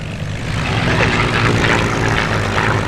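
Spitfire fighters flying in close formation at an airshow at Sywell, a steady loud roar of piston aero engines holding throughout without a break, near and powerful, with no clear talk over it.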